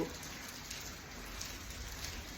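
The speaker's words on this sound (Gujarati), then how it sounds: "વરસાદ આજે ચાર વાગ્યાથી વહેલો ચાલુ થયો છે અને અત્યારે પણ વરસાદ ચાલુ છે" Steady rain falls outdoors in farm country, a faint, even hiss of drops with no breaks and no voices.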